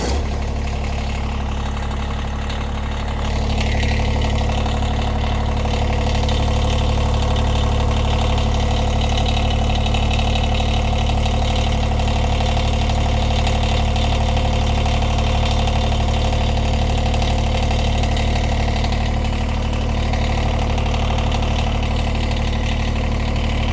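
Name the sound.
Kubota BX1880 tractor engine idling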